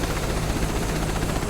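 Steady, loud rotor thrum and engine whine of a helicopter spooling up for takeoff in Microsoft Flight Simulator 2024 over Chitwan National Park, a continuous dense drone with rhythmic blade pulsing.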